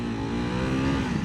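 Ducati Hypermotard 698 Mono single-cylinder motorcycle accelerating hard in sport mode, a loud, steady, close engine roar with rising harmonic tone over a short burst.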